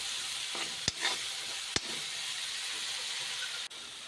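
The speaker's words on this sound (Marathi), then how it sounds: "चांगले फ्राय झाले की त्यामध्ये हळद पावडर मिक्स करू आणि त्याला पुन्हा थोडंसं अजून फ्राय करून घेऊ" Urad dal tempering frying in hot oil with turmeric powder gives a steady close sizzle and hiss, broken by two short stirring scrapes and a faint clack near the end.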